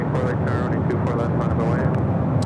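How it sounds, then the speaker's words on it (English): A Boeing 787-9 Dreamliner takes off at Los Angeles International Airport with a steady broadband jet roar, loud and continuous, while a voice talks over it. "787-9 Dreamliner next up for takeoff"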